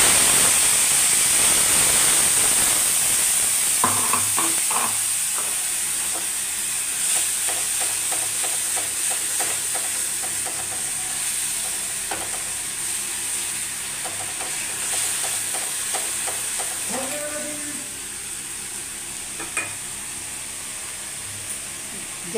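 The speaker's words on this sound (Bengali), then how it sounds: "এবারে আমি সেই যে মশলাটা করে রেখেছি টক দই দিয়ে, পেঁয়াজ, আদা, রসুন, এই মশলাটা ওতে ঢেলে দিই" A yogurt, onion, ginger and garlic spice paste is poured over fried pointed gourd in hot oil, setting off a loud hissing sizzle. It gradually settles into steady frying with clicks of stirring.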